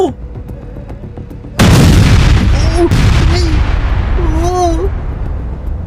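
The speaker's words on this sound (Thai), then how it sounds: "ระเบิดเลยอะ" A car burning in a fire explodes with a sudden loud boom, followed by a sustained roaring crackle. Excited voices and shouts carry on over the blaze.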